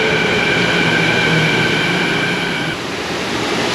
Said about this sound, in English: Here comes an inbound train.